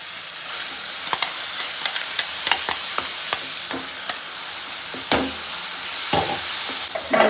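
Ground paste tipped into a pan of fried chillies and curry leaves, sizzling steadily in hot oil while a spoon scrapes and stirs in irregular clinks and scuffs.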